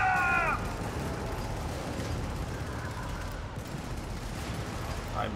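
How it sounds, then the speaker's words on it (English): Wild gunfire in the co-op shooter game Helldivers, a dense continuous fusillade rumbling under a brief melodic tone at the start, steady and loud throughout. "I'm just firing wildly"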